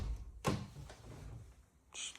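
A bifold door in a newly built house swings open on its own with a sudden thud, followed by a faint creak and a light knock as it settles.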